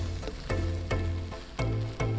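Fried rice frying in a pan: steady sizzling with repeated stirring or scraping strokes about every half second, close and moderately loud.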